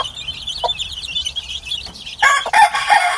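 Chicks peep in high rapid chirps near a mother hen, then the hen breaks into louder clucking toward the end, all close by.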